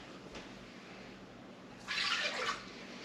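Pure cranberry juice being poured into a pot on the stove, one cup at a time: a brief, bright splashing pour of about a second, rather quiet against a low room hiss.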